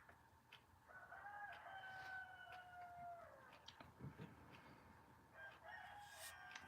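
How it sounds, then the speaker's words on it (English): Rooster crowing several times at close range, with long drawn-out calls rising and falling, separated by short pauses over faint background noise. "I want them damn chickens out of here."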